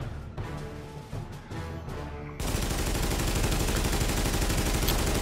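A High End AK-47 assault rifle fires in The Division: a brief rattling burst, then a sustained, dense full-auto stream of loud, rapid shots that continues to the end.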